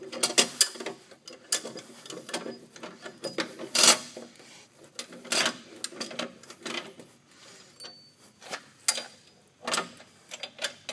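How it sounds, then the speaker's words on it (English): A nut is being tightened on the inside of a wheel, giving irregular, close metallic clicks and ratcheting scrapes in scattered bursts with quiet gaps between them. "The inside nut, push it in, screw it in towards the wheel."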